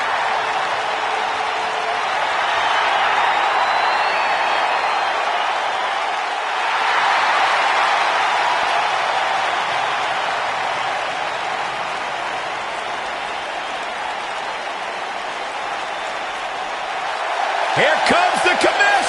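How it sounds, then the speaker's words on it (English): Arena crowd noise from a WWE 2K19 wrestling game, a steady broad roar of cheering and applause that swells and settles, with a burst of sharper clapping near the end. "Sounds to me, guys, like this crowd is ready to get this night started."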